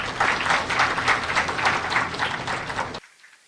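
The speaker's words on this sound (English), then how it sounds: "Huge round of applause, dear audience." A university audience at an induction program applauds warmly during a felicitation, a dense, rolling round of clapping that continues steadily and then cuts off abruptly.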